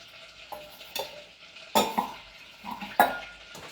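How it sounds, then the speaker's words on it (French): A spoon stirs dry powdered coconut, ground almond, icing sugar and flour together in a bowl, giving a few sharp, close scraping strokes separated by quieter rustling. "On mélange le tout."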